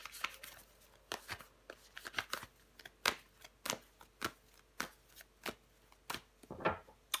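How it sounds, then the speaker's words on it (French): Tarot cards are shuffled, flicked and laid down on a table in a reading, making crisp papery snaps and slides in an uneven rhythm, close and fairly quiet. "On va recouvrir des cartes pour vous les scorpions."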